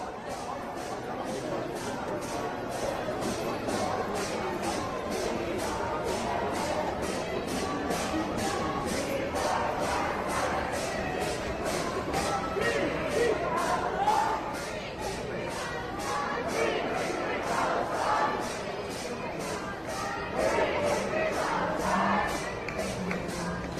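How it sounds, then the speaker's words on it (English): A dense street crowd trying to stop police vans carrying arrested people keeps up a continuous roar of shouting and chatter for over twenty seconds, fairly distant and steady with occasional louder swells, and voices talking throughout. "this is the crowd that was trying to stop those vans with the arrested"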